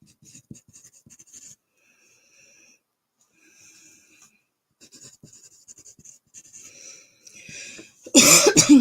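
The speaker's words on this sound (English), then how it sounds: "That alcohol is making me cough" A person coughs hard from alcohol, a loud close burst of several harsh coughs at the very end, after a long stretch of faint pen-on-paper scratching and quiet rustling.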